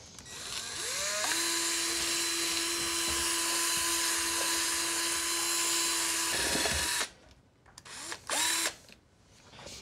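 An electric mixer whirs as it blends a krill protein bait mix for carp boilies, a high steady whine that rises as it spins up, holds for several seconds, then stops with a few short bursts.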